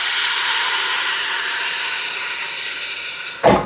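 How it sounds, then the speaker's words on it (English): A hot pan hisses loudly and steadily as wine is poured in to deglaze it for chicken cacciatore, the broad steam hiss slowly easing before a sharp scrape or clatter at the end. "now I'm going to turn the heat up and deglaze the pan"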